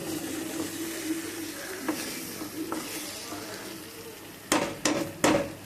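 Three eggs are stirred in a frying pan for a tamarind-leaf egg curry. A low sizzle sits under intermittent scraping strokes, ending with three sharp, louder clacks of a utensil against the pan.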